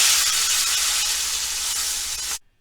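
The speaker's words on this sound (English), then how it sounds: "Next step is to brown after adding salt. Alright, like any other pot roast, my objective is to brown all sides." Chuck eye roast browning in a pan after being salted, giving a loud, steady sizzle with a dense frying hiss that runs evenly before cutting off abruptly near the end.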